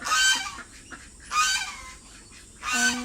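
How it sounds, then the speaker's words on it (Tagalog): Ducks or geese offered for sale alongside chickens give three loud, nasal honking bursts, close by, spaced about a second apart with quiet gaps between. "Ang mga bibe."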